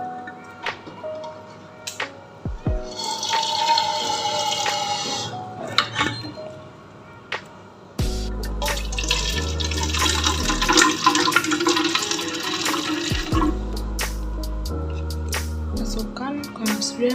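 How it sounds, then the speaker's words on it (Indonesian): Vinegar is poured into a bottle for a school chemistry experiment on reaction rates, giving two bursts of gurgling, splashing liquid, a short one and then a longer one, over soft background music. "Selanjutnya masukkan 100 ml cuka ke dalam botol A dan B."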